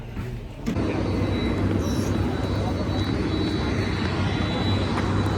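An airplane's engines drone while passengers board a flight to Bhairahawa in Nepal. The loud, steady roar starts abruptly after a brief quieter moment and continues under faint talk.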